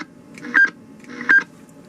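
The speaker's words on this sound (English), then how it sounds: "change the tone of your Roger beep" Roger beep from a Galaxy DX 959 CB radio: two short electronic tone bursts spaced under a second apart, crisp and close over a low hum of radio static.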